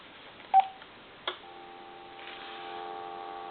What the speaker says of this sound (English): So you have dial tone.